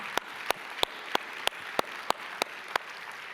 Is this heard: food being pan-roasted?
no